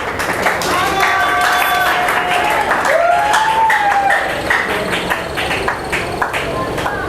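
Worshippers at a church service clap and cheer in praise of the Lord, a steady mass of applause mixed with raised voices and sung or shouted tones rising above the crowd.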